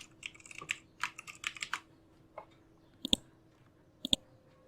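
Short bursts of key taps on a computer keyboard while entering text into CorelDRAW, with a quick cluster of strokes at first, then scattered single clicks with pauses between them, close and moderately quiet.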